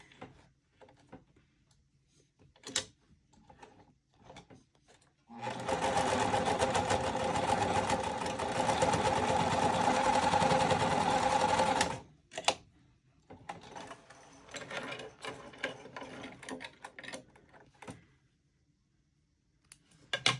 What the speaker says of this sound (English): I'm going to do the 2 lines of stitching on this side as well, just for the extra security.